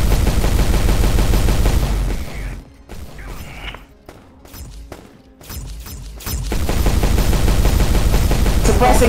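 Bursts of suppressing gunfire crack loud and close, with rapid machine-gun rattles at the start and end and sparser single shots during a quieter middle stretch.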